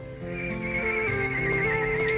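A horse whinnies in a long, wavering, high-pitched neigh, loud and close over a steady background din, lasting the full two seconds without pause.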